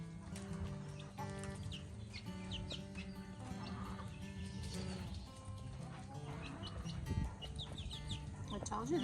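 Chickens in a backyard flock, with larger birds pushing around smaller young ones, heard as scattered clucks and calls over a steady busy background, with a person talking nearby.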